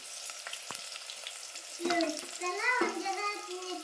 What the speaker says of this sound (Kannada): ಈಗ ನೋಡ್ರಿ ಇದಕ್ಕೆ ಉಳ್ಳಾಗಡ್ಡಿ ಹಾಕೋತೀನಿ ರೀ ಉದ್ದು ಕಟ್ ಮಾಡಿದ ಉಳ್ಳಾಗಡ್ಡಿ ರೀ ಮತ್ತು ಬದ್ನಿಕಾಯಿ ರೀ